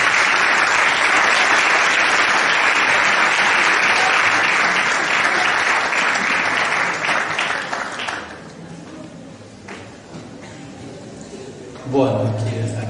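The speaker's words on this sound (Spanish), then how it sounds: "Lo recibimos con un fuerte aplauso al padre." Loud, dense applause from a lecture audience welcoming a priest, many hands clapping steadily for about eight seconds before fading to scattered claps and room noise, then a brief rustle near the end.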